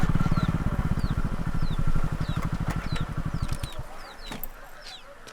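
Chickens cluck and call at a poultry farm, brief repeated chirps scattered over a loud rapid engine-like putter that fades out partway through.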